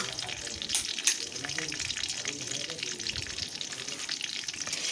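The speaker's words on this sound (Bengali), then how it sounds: "গ্যাসের ফ্লেমটা লো রেখেই ফোড়নটা ভাজছি" Whole spices including dried red chili, cinnamon, green chili and cumin seeds frying in oil over a low gas flame, a continuous close sizzle with scattered crackles and small pops.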